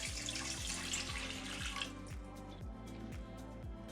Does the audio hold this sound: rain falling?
no